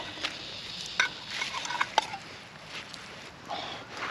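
Two sausages frying in a pan over a woodland campfire give a steady soft sizzle, with scattered sharper crackles and spits.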